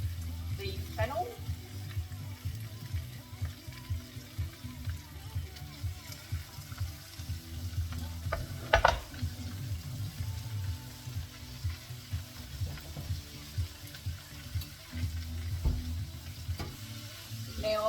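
Chopped cabbage and fennel sizzle and crackle in a hot pan and are stirred through now and then, giving a steady close frying hiss broken by scraping and a sharper clatter near the middle, with no voices.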